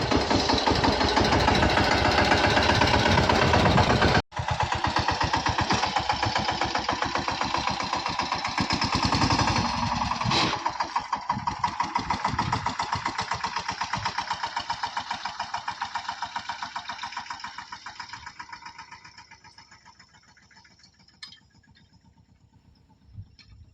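A tractor engine runs with a steady, rumbling drone and a brief dropout near the start. It holds loud and constant for a while, then gradually fades and grows faint toward the end, with no voices.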